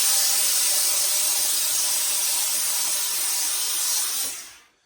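Steam hissing onto a Borsalino fur felt fedora during restoration: a loud, steady, broad hiss held for about four seconds before tapering off into silence.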